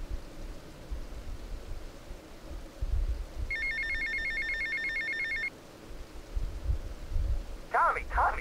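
A telephone rings in the video game GTA Vice City, a clear electronic trill repeating steadily for about two seconds over a low game background, followed later by a short burst of speech.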